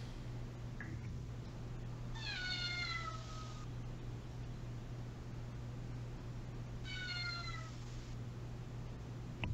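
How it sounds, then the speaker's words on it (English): A cat meows in two separate bursts, the first longer and the second shorter, heard moderately faint and somewhat distant over a steady low electrical hum in an indoor room, with no talking. "Whose cat is meowing?"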